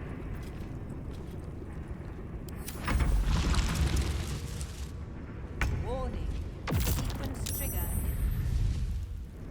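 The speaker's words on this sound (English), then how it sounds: "You hear an explosion, the earth shuddering beneath your feet in response." Explosion in the video game Baldur's Gate III, heavy booming blasts with deep rumbles, arriving as a few loud bursts amid game sound effects and music.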